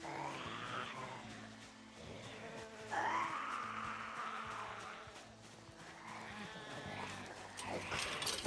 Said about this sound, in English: Is that sheep in pain or dying or something?